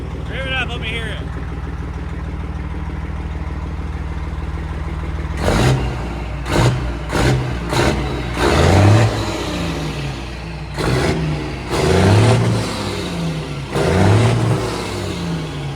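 Loud straight-piped truck engine, a classic rig, idling steadily before revving in a series of sharp, throaty bursts up close, with people talking over the pauses between pulls.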